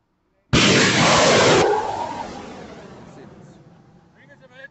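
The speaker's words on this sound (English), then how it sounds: "Iron Dome battery behind them suddenly launches rocket to intercept incoming Palestinian missile" An Iron Dome battery near Tel Aviv launches an interceptor rocket against an incoming missile: a sudden, very loud roaring blast for about a second, then a long rumbling whoosh that slowly fades.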